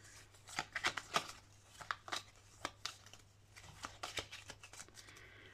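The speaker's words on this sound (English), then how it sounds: "we're going to give the cards a shuffle" A deck of playing cards is shuffled during a cash-stuffing budget challenge, giving quiet, irregular riffling and flicking bursts up close against a faint background hum.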